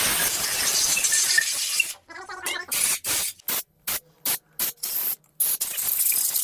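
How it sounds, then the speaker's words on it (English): Brake cleaner hisses from an aerosol can onto engine parts of a Land Rover 2.7L TDV6, first in a long continuous blast, then in a series of short, sharp, loud spurts close by. "I spray on some more brake cleaner"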